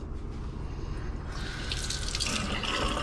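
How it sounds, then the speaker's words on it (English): Running tap water pours over freshly cleaned fish being rinsed in a sink, a steady close splashing stream that swells louder partway through, with no talking. "If you find any stuff that you missed, you just rinse it off."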